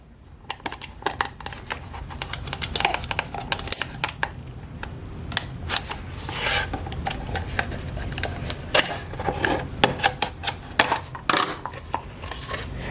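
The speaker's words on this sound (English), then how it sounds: "you can just run this through the cutter. And that's essentially how you shred the plastic." Plastic bottle strips run through a cutter, giving a dense stream of sharp clicks and snips with irregular, closely spaced bursts at moderate loudness and no talking.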